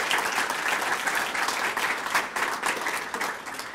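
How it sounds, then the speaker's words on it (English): Steady, full applause rises from the audience at a minor league hockey team's press conference after an award announcement. The clapping runs unbroken and without speech from start to finish. "A big round of applause for him as well."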